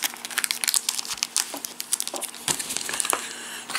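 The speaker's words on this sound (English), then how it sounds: "So we'll get the little pack out and pop the cards in here." Plastic wrapping crinkles and crackles close by as a pack of Nova Aetas board game cards is unwrapped, a dense run of sharp rustles and small tears with no talking.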